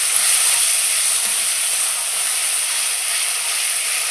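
Spices with salt and turmeric fry in a pan for a pointed gourd curry, giving a steady, bright, close hiss with no break or talking.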